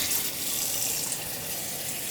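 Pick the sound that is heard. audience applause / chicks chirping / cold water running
cold water running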